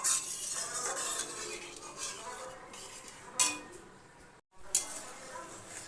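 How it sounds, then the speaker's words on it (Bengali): Spices being stirred with warm water in a pan for a mourala fish curry, with steady scraping and soft clinks of a utensil against the pan, a few louder knocks, and a brief pause near the end. "দিয়ে মশলার সাথে ভালো করে মিশিয়ে নিলাম।"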